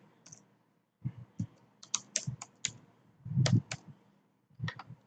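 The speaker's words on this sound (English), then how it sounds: "Type the password here." Keyboard keys clatter in irregular bursts as a password is typed into a computer registration form, with short pauses between clusters of clicks; close and moderately loud, no talking.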